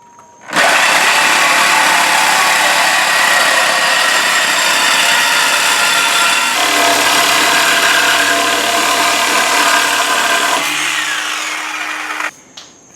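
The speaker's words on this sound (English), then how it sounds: "So the first thing we're going to do is cut it right here with the Sawzall." Sawzall reciprocating saw cutting through the exhaust pipe of a Trans Am WS6 during a chambered exhaust install: loud, continuous buzzing cut lasting about twelve seconds, shifting pitch partway as the blade works, then stopping abruptly.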